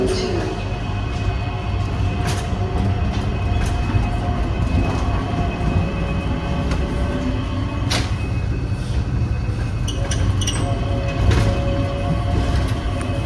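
Riding the Changi Airport Skytrain toward Jewel in Singapore: a steady interior hum and rumble of the moving train, with occasional faint clicks and thuds over the even drone.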